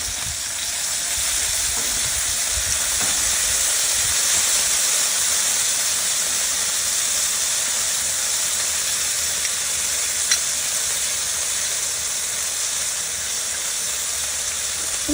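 Bacon sizzles on a Blackstone griddle in a loud, steady hiss that runs unbroken and even from start to finish, with no voices over it.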